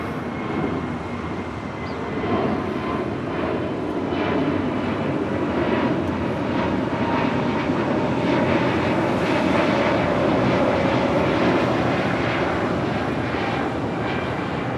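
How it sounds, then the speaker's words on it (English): Spirit Airlines A320neo jet departing Los Angeles International Airport, a steady broad engine roar that swells slightly and holds without letting up, heard from a distance with some wind buffeting. "A320neo heading to Puerto Vallarta."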